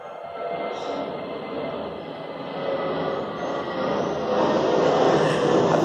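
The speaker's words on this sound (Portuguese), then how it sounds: "Avião agora, gente." Airplane flying overhead, a broad roaring drone that builds gradually in loudness over several seconds, steady and continuous with no talking.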